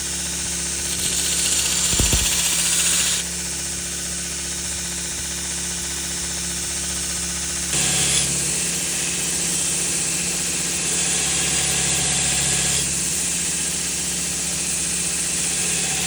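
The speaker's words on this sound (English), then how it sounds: "Here's another angle of me grinding the bevel on the knife." A belt grinder whirs steadily while a knife blade's bevel is ground freehand, a continuous close hum and hiss whose texture shifts as the steel is pressed to and lifted from the belt, with a brief knock early on.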